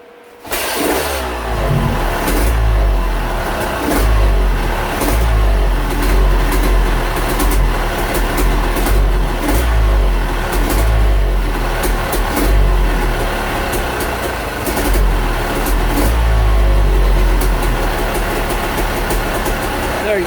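A Yamaha YZ250 two-stroke dirt bike engine idles close and loud, a steady low burble with a faint rhythmic rise and fall throughout and no clear speech.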